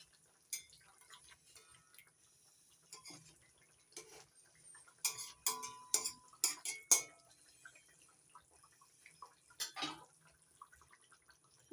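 Light clinks and scrapes of a utensil stirring pomfret fish curry with chopped coriander in a pan, sparse and quiet, with a brief cluster of sharper taps in the middle and near the end, no talking.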